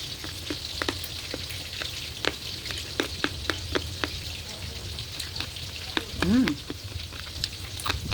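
Pork pieces fry in hot oil in a pan, giving a steady, close sizzle with scattered crackles and pops. A brief voice sound breaks in near the end.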